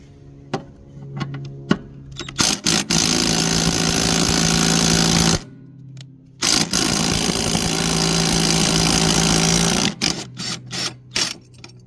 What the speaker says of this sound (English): we'll need a 16mm socket and a impact wrench or breaker bar